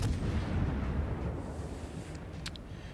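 Naval gunfire in World of Warships, a deep rumbling boom of big guns that rolls and fades over the clip, with a couple of faint higher pops near the end and no talk.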